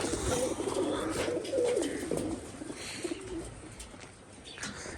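Several pigeons coo in low, throaty rolls, overlapping steadily and close by, with a faint hum of background noise.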